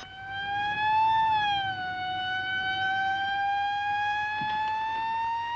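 A police car siren from a 1939 film wails as a single sustained, rising and falling tone with clear harmonics, fairly loud and steady throughout, with no voices over it.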